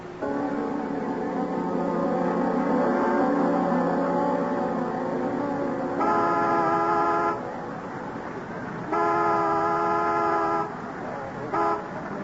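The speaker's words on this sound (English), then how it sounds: "honk the horn as a reminder. Make it 2 long, 1 short" A car horn sounds in an old-time radio drama: two long honks, then one short toot, loud and close after a stretch of steady background noise.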